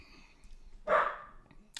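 A dog gives a single short bark indoors, fairly close, with a faint high yip right after in an otherwise quiet room.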